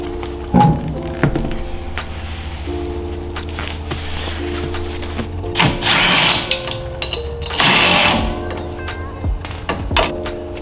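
A Ford Focus wheel spacer is removed using tools, with bursts of a power tool whirring, metallic clunks and ratcheting clicks over a low background hum, close and without speech.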